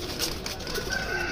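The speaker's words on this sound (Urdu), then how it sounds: "یہ جی ایک ٹیڑی کبوتر ہے" A Teddy pigeon gives a brief, soft cooing call close by against a steady background hum, with no talking.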